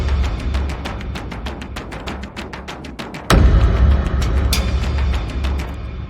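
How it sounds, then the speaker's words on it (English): A quick rhythmic pattern of layered cinematic drum loops builds for a few seconds, then a heavy booming impact lands and rings out with more layered percussion. "so the drums all together sound like this"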